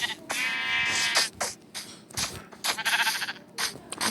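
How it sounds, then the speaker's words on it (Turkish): Sheep in the video game Minecraft bleat repeatedly, several wavering, nasal cries in quick succession with brief gaps, loud and close. "Koyun, koyunları alalım."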